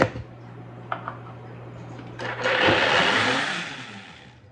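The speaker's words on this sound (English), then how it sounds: "I'm going to give it just one more quick whirl just to make sure that I've got it all mixed up" A kitchen blender whirs briefly through a mix of egg, cheese and salt, a loud buzzing surge starting midway that swells and then tapers off, preceded by a low hum and a couple of small knocks.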